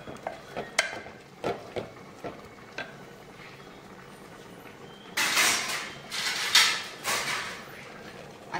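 A spoon stirs a thick pumpkin mixture spiced with cardamom and nutmeg in a pan, first as a few sharp taps and scrapes against the metal, then as a louder stretch of wet stirring and scraping.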